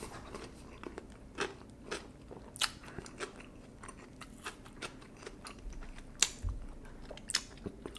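Someone bites and chews a pulled pork slider with dill pickles on bread, close and fairly quiet, giving irregular crisp crunches and soft smacking between bites, with no speech.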